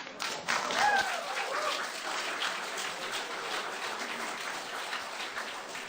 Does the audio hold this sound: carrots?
no